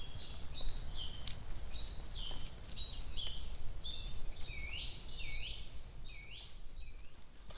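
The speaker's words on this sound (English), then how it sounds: "You can hear the birds singing." Birds sing and chirp continuously along a path beside a dyke in Norfolk countryside near Thurne and Repps with Bastwick, with several overlapping calls at moderate distance over steady low wind or ambient rumble; no one talks.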